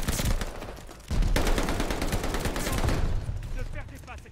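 Rapid bursts of STG 44 assault rifle hip-fire in a video game, dense overlapping gunshots with loud continuous rattling that intensifies past the first second, mixed with game effects and voices.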